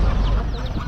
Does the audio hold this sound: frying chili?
no